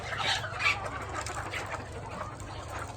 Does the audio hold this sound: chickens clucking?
yes